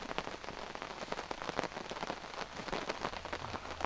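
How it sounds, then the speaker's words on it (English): Torrential rain pelts a tarp shelter at a storm campsite, a dense, steady patter of countless drops drumming close overhead with no pauses, loud and unbroken throughout. "Man, that rain is not letting up."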